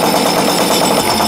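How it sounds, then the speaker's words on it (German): A tuned Peugeot 103 moped with free clutch plates rattling, a dense continuous metallic clatter and buzz mixed with engine noise, loud and close, no talking. "Das sind die Kupplungslamellen, die jetzt natürlich noch frei sind"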